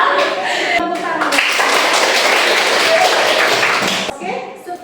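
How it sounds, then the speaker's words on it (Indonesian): A group of participants claps their hands together in a session, a loud, dense burst of applause that rises sharply, holds for a few seconds, then tapers off as voices return. "Tepuk tangan."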